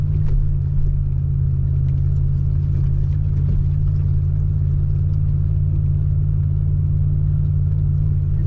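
A cruiser's engine drones steadily in third gear while climbing a wet sandy hill in the rain, a loud, close, even low rumble with no talking.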